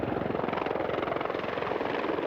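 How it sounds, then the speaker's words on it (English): Mil Mi-24 attack helicopters of the Czech Air Force at the RAF Fairford air show give a steady, rapid rotor thump over a broad engine drone, loud and continuous, with no voices. "These are the MIL Mi-24 helicopters of the 331st Attack Squadron of the Czech Republican Air Force."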